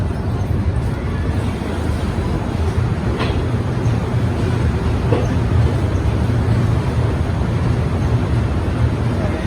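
Yoga Express train pulling into Marwar Junction, a steady loud low rumble of wheels and carriages with a constant broadband roar throughout and a couple of faint brief squeals.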